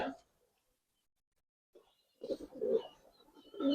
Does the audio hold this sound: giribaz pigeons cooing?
yes